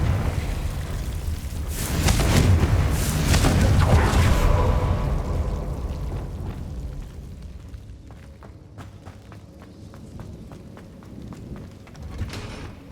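A Confringo fire spell from Hogwarts Legacy bursts loud and close, a broad rumbling blast lasting a few seconds that then fades into a quieter tail of scattered small ticks and crackles.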